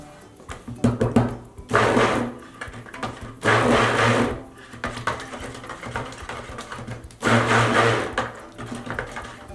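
A stick blender whirs in short bursts while mixing oils for goat milk oatmeal soap, several loud buzzing pulses of a second or two each separated by quieter clatter.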